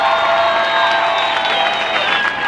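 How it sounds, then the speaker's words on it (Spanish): A crowd applauds with steady, dense clapping and cheering at a Royal Ball event in Cuba honouring dancer Carlos Acosta, a continuous roar filling the whole stretch. "Un fuerte aplauso para esa gente linda."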